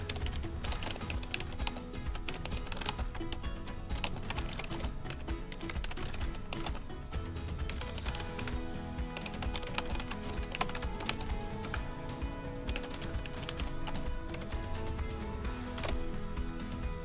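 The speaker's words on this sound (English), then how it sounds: "I'll write my description for it." Steady computer keyboard typing while a product description is entered for an online store, continuous rapid key clicks running throughout without any talking.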